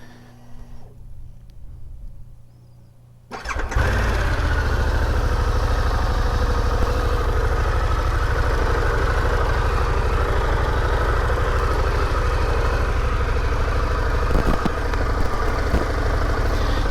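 After a quiet moment, a 2021 Harley Davidson Pan America 1250 motorcycle engine fires up and settles into a loud, steady, close idle that continues to the end.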